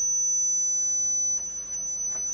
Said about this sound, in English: I'm just slowly increasing the frequency and recording different series of tones